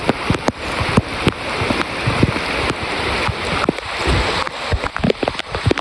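Steady rain keeps falling during a flood by a river drainage canal, a dense, even hiss of drops and splashes with scattered sharper spatters close by, continuous throughout with no talking.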